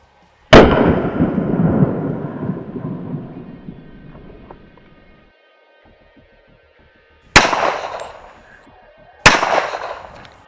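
Gunshots fired at a target: three loud, sharp reports, the first with a long rumbling decay, the other two close together near the end, with quiet gaps between.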